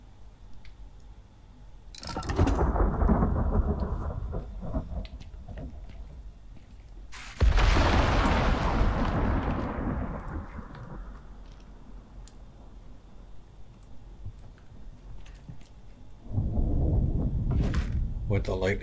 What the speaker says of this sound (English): Guys, storm coming in. Oh, it's lightning as well.